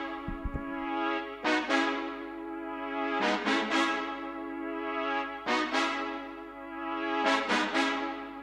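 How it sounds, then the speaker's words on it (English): Layered brass chords from a software instrument in FL Studio, built for a wavy trap-style sample: bright, full swelling stabs rising and falling in a slow repeating cycle about every two seconds, played alone with no talking. "I then layered it with the same thing, except this is like a different type of sounding brass."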